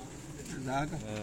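Golden pigeons in a rooftop loft in Kasur, giving a brief soft low coo near the middle, faint and partly under someone talking.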